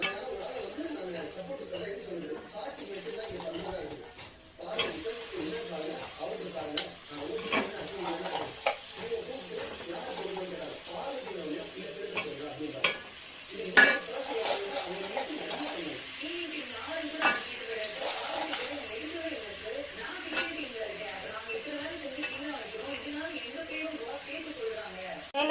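Crab stirred and frying in a pan with tomato, a steady sizzle broken by scraping strokes of a utensil, with a voice talking over it and birds chirping in the background.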